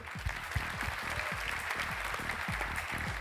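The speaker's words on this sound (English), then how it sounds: "you got cheering section there for you" An audience at the Startup Istanbul 2017 finals applauds a pitch contestant, a steady patter of clapping hands with a faint murmur behind it, continuous and moderately loud throughout.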